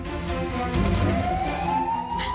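An ambulance siren wails loudly nearby, its tone sweeping steadily upward in pitch over the whole stretch, with no voices heard.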